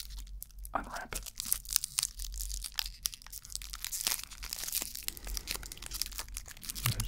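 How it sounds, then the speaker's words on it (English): A wrapped sweet is carefully unwrapped up close in a quiet room, giving a continuous run of crisp crinkling and small tearing rustles of the wrapper for several seconds, with no one talking. "unwrap it."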